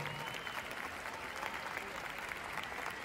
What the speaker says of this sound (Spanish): Fuerte el aplauso para despedir a José Luis Jiménez.